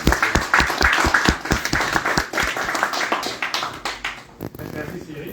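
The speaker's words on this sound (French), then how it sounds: "Applaudissez." An audience applauds at a tribute event, dense clapping starting at once and continuing steadily before thinning out toward the end, with some voices mixed in.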